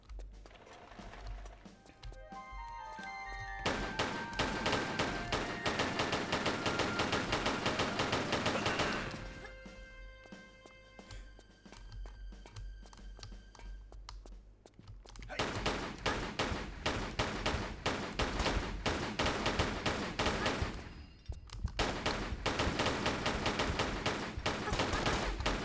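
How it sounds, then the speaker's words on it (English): Gunfire from an MP5 submachine gun in Tomb Raider I-III Remastered, loud bursts of shots coming in several dense stretches over game music, with quieter pauses between them. "if we use the MP5, we can actually get this dude from here"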